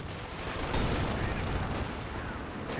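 Gunfire and rocket grenades in a Company of Heroes 2 battle make a dense, continuous crackle of shots and bursts, held at moderate level throughout.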